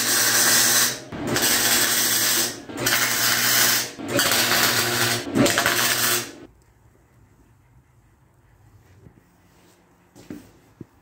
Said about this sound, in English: Now I'm just doing the holes.